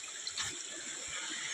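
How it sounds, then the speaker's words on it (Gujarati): Water flows straight out of a rock spring in the Gir forest, a continuous soft trickling and gurgling stream, steady and fairly faint, heard close with no talk. "ભેડામાંથી સીધું પાણી આવે છે."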